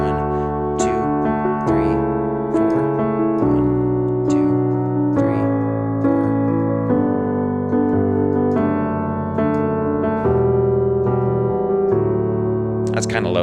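Piano chords in D are struck on the first and third beats in a worship rhythm pattern, ringing full and sustained while a voice counts the beats aloud.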